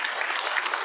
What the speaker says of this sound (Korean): 여러분 우리 하나님께 영광의 박수 한번 하죠.